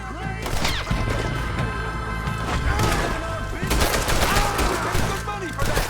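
Gunfire erupts in the Red Dead Redemption 2 game during a firefight with raiders, rapid overlapping shots and thuds, with voices shouting over the shooting.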